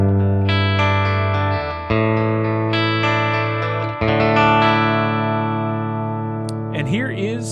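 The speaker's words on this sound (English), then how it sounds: "and here is my clean tone." Clean electric guitar notes and chords ring out through an amplifier miked with a Sennheiser E906, sustained and bright, with a brief sliding, wobbling bend at the end.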